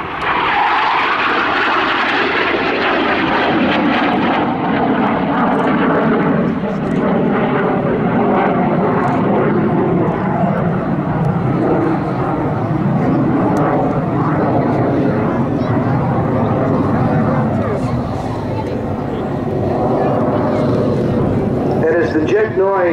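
An F-86 Sabre jet, Hawk One, roars past at the 2012 Hamilton Airshow. The loud, sustained engine noise slowly fades and shifts as it goes, with an announcer talking over it.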